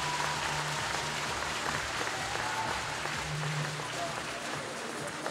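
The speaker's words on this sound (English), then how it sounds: "Roberto, you managed to get this huge crowd in Ponds Forge on their feet. Please do it again for your 200 IM champion, Roberto Pavoni." A large crowd at the Ponds Forge pool in Sheffield applauds and cheers a 200 IM swimming champion during the British championships, a dense, steady roar of clapping lasting throughout, with an announcer's voice over it.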